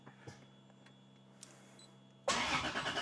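A Toyota 1JZ-GTE VVT-i engine under live tuning is cranked after a quiet stretch of faint clicks and hum, then bursts into a loud, sustained churning crank near the end.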